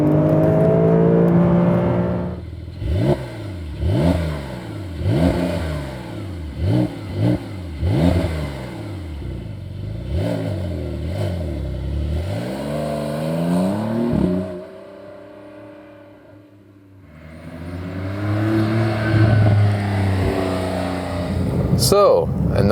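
Porsche 911 of the 992 generation heard from inside the cabin, the engine revving up repeatedly in rising surges, loud and close, then easing off to a quieter lull before building again; someone talks over parts of it.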